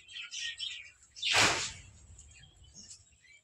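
Pigeons in a pigeon loft give a few soft chirps and calls, with a brief burst of rustling or wing flaps in the middle; fairly quiet and close.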